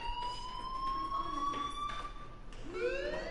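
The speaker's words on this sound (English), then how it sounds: "do you hear that fire alarm?" A fire alarm in the Life Is Strange video game rings continuously, with steady electronic tones held throughout and a rising tone near the end, fairly loud and with no one speaking.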